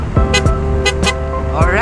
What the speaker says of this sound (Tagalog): pakinggan nyo yung horn